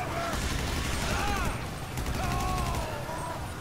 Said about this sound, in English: I am shooting blind